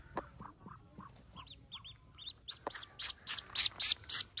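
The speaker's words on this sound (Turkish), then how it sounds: "Ördeklerimiz de çoğaldı" Ducklings on a farm give high, thin peeping chirps, soft and sparse at first and then a close, loud run of regular rapid calls.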